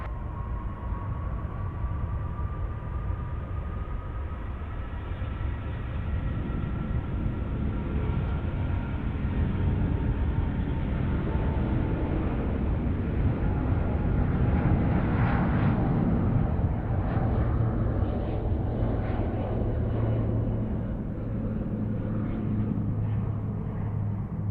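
A Singapore Airlines airliner takes off at night from Sydney Airport, its engines a loud, sustained roar that swells and shifts in pitch as the jet climbs away, with no voices heard.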